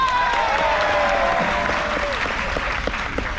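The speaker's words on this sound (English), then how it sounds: "Round of applause for Alan" Show audience aboard the Majestic Princess cruise ship on an Alaska voyage breaking into applause, a dense, loud clapping that holds steady, with a brief whistle-like tone and some voices over it.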